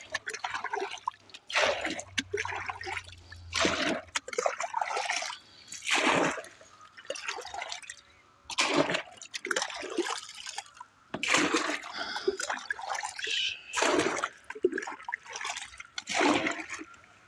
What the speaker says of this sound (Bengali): প্রতিদিন চারা গাছে পানি দিতে হয়।